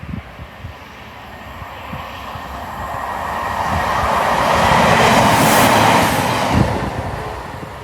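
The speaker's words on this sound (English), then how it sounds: "get some good shots of this HST scooting along the tracks as it's leaving away from Blackpool" A high speed train (HST) approaches and rushes past on the tracks between Blackpool and Preston, its roar swelling to a loud peak with rail squeal before fading slightly; no voices.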